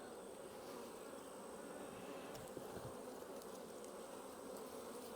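Honey bees in an open hive give a steady, close, even buzz throughout, with no voices over it.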